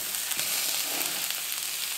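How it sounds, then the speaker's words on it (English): Steady, dense sizzling of food searing in a hot pan, a continuous crackling hiss with small pops, close and fairly loud throughout. "You wanna hear that nice sizzle,"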